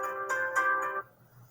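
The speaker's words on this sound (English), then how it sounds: "Sorry, that was my alarm." A phone alarm rings in a classroom, a short melodic electronic tone that repeats in quick pulses for about a second and then cuts off, with nobody speaking.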